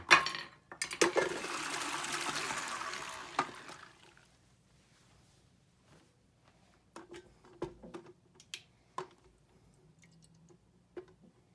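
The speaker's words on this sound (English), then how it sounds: "I'm going to strain this one more time, and then we will wash the butter again until our buttermilk is relatively clear." Homemade butter being strained and washed in water, with a loud splashing, pouring rush for the first few seconds, then quieter scattered drips, clinks and squishy handling sounds.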